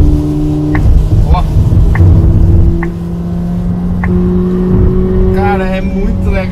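New car accelerating hard in Sport mode, its engine a loud steady drone that holds throughout, with a shift in pitch partway and faint higher whines near the end; no speech over it.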